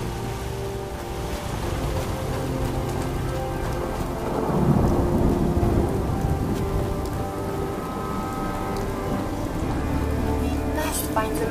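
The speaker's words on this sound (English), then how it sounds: "Damn rain is soaking right through me clothes." A thunderstorm in the Fallout 4 game: steady heavy rain beats on surfaces while a deep rumble of thunder swells in the middle, with a faint voice under the downpour.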